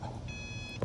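A 2011 Subaru Forester sounds a single thin electronic warning tone for about half a second with its door open and the key in the ignition, faint over a steady background hum.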